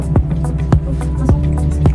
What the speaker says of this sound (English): we have to stir it